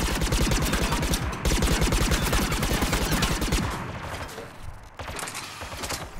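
Rapid machine gun fire from the video game Mass Effect 3 rattles in long sustained bursts, loud and close, with short pauses and a final burst near the end.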